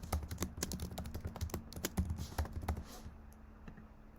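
Fingers type on a computer keyboard in quick, close bursts of key clicks, the tapping thinning out and stopping toward the end.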